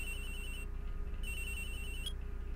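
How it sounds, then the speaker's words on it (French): A telephone rings in the Phoenix Wright: Ace Attorney video game, two clear electronic ring bursts separated by a short pause, heard alone over a quiet background hum. "Oh, téléphone qui sonne."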